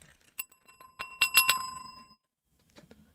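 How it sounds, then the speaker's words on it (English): A bell rung by hand on a celebrity news show: several sharp, bright ringing strikes in quick succession, loud and near, sounding alone without talk, then near-silence. "Hold on, let me hit the bell."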